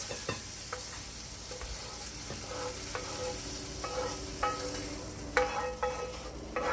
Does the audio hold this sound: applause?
no